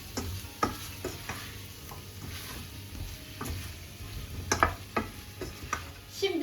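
A spoon stirs a saucy meatball dish in a pot after red pepper flakes and ground red pepper are added, bringing irregular clicks and scrapes against the pan over a low simmering sizzle.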